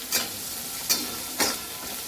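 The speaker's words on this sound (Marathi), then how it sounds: "असे शेंगदाणे टाकून हे पण परतून घ्यायचे तेलामध्ये" Roasted peanuts sauté in hot oil for poha, giving a steady close sizzle broken by three quick stirring scrapes.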